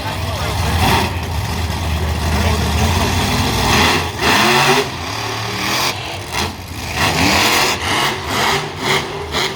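A monster truck engine at an event runs loud and close, with a deep rumble that rises and falls through revs, while people talk over it.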